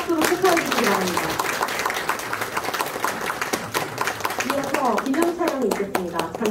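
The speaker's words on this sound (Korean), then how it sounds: "내빈께 인사, 큰 박수로 축하해 주시기 바랍니다." An audience claps in sustained applause for award recipients at a Korean Automobile Day ceremony in a hotel ballroom in Seoul. Dense overlapping hand claps fill the room, with voices audible beneath.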